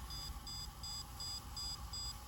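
A stud finder in stud scan mode beeps against a wall in a steady repeating pattern of short high tones, faint over a low background hum.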